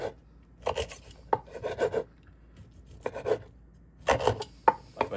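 A knife cutting rough slices of sausage for currywurst, heard as several short bursts of rasping, scraping strokes against a board, grouped with pauses between them, close and fairly loud.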